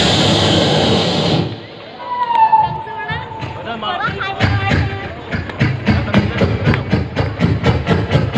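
A human voice imitates a train horn, a long sustained blast, then the chugging of a train pulling out of a station, rhythmic puffs slowly building, loud and close.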